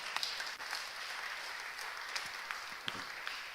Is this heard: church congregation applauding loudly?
yes